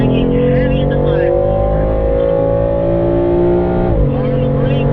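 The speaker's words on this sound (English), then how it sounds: "Hard on the brakes, down the gears if you use that second gear again" A race car brakes hard on a circuit and drops down through the gears, its loud, close engine holding a steady drone before the pitch dips sharply with a downshift near the end.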